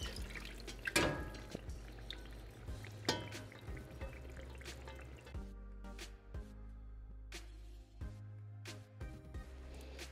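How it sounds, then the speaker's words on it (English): Beef broth poured into a pot of fried stew, soft pouring and dripping with splashes and scattered drips, fairly quiet and close. "So now we're going to add the beef broth."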